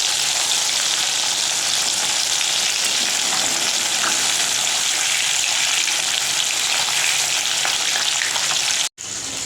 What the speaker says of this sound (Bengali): সেই জন্যই একদম তাড়াতাড়ি করে ধুয়ে ভাজা বসিয়ে দিয়েছি।